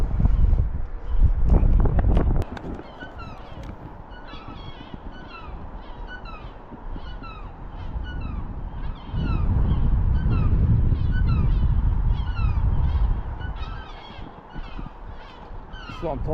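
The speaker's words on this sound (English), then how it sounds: "chopper getting hassle off the seagulls" Seagulls harass a hovering drone outdoors in Scotland, giving repeated harsh calls in a rapid series under gusting wind and rotor noise.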